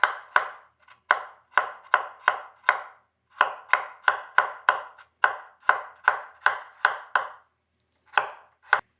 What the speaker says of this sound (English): you're just gonna chop it like that